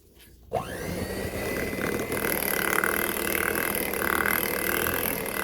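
An electric mixer whirs steadily through orange bar batter, starting abruptly after a brief quiet moment and then running loud and continuous with a bright motor whine.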